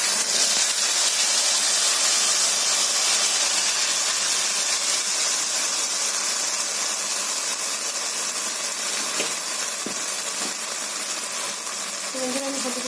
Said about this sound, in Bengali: আমি এখন তেলের মধ্যে দিয়ে দেবো।